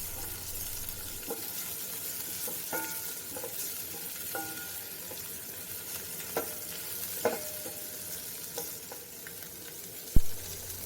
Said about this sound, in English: I'm going to add my fish fillet and stir